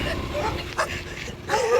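Dogs bark and yip in short bursts, a few sharp calls rising over a noisy outdoor background at moderate distance.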